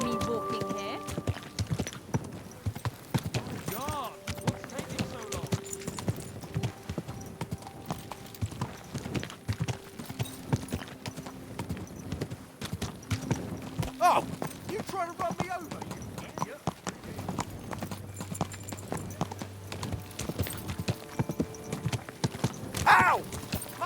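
Horse hooves clip-clop steadily through a video game scene, a continuous rhythmic patter running under frequent voices, shouts and background game sounds.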